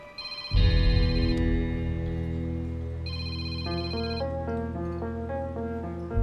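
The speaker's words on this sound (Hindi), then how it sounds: "एलेक्स का फोन, ये किस लिए फोन कर रहा है?" An electronic phone ringtone plays a repeating melodic tone pattern, loud and close, continuing without pause; no talking.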